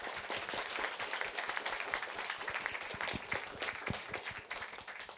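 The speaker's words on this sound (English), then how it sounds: "another round of applause" Sustained applause from a seated audience at a film event honoring a kung fu professor, dense and even, filling the full five seconds without speech.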